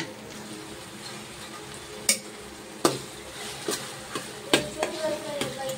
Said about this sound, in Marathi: थोडेसे जिरे, राई, कढीपत्ता